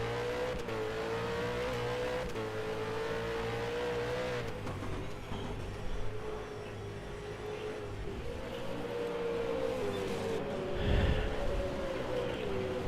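V8 race cars in a sim racing league at Barbagallo Raceway at night, engines droning steadily with shifting revs as a pack of cars runs close together through a turn, continuous and loud throughout.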